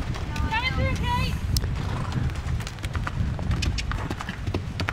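Horse hooves clip-clop across the ground of an arena, a run of quick regular steps heard fairly close beneath a person's voice, with wind buffeting the microphone.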